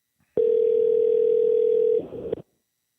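A telephone dial tone sounds before a call to a Target store, a loud, steady single pitch lasting about a second and a half before it breaks into brief clicks and stops.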